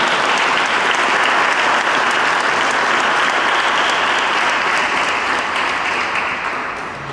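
Sustained audience applause at the close of a formal candidates' debate, a loud, even roar of many hands clapping that holds steady for seven seconds before easing slightly at the end.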